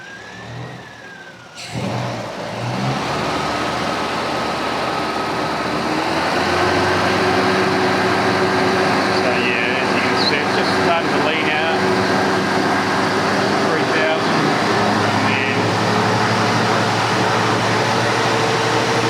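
A carburettor-fed car engine, freshly tuned, is held at a steady high rev under a constant loud drone, with a brief dip and pickup near the start. The tone holds fairly even, with slight shifts in pitch.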